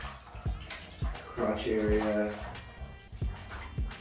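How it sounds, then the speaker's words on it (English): Selvedge denim jeans being hand-washed and agitated in bathtub water, with soft sloshing and dripping splashes at an irregular rhythm beneath a man's close speech. "Make sure it's agitated, moving the water around."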